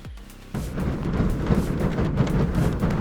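A large block of snow slides off a house roof in winter, setting off a sudden deep, rumbling roar that builds after a short quiet start and keeps going at a steady, moderately loud level.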